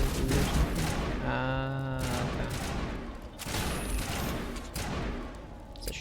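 Shotgun blasts from the Mass Effect video game, a couple of loud booming shots with a ringing decay between them, heard close and alone without talk.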